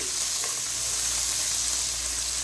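Onions sizzle steadily in hot oil in a pan, a dense, even frying hiss heard up close throughout with no break.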